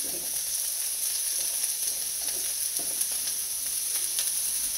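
Chopped onion with oil sizzling in a skillet, a steady bright hiss with occasional small pops and faint utensil contact, no talking.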